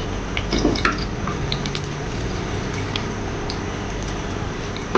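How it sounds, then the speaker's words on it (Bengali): Whole cumin seeds hit hot oil in a pan, setting off a soft continuous sizzle with a few brief crackles and pops near the start, close by and with no talking. "তেলটা গরম হয়ে গেছে, এখন আমি আস্ত জিরাটা দিয়ে দিচ্ছি"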